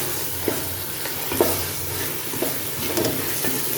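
White beans for lobia masala being stirred in a hot pan, a continuous close sizzle and hiss with soft scraping knocks as the spoon moves through the thick masala, and no voices.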